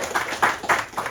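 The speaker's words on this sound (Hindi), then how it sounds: "ताली बजाइए" An audience at a Mahabharat discourse claps in a short burst of applause: four rhythmic swells of hand-clapping, fairly loud and close, with no speech.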